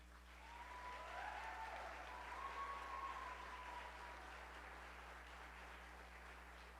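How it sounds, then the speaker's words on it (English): Audience applause for high school choir students at a spring choir concert, a steady broad wash of many hands clapping that swells early and holds at a moderate, slightly distant level throughout, with no talking over it. "So a huge, huge round of applause for them."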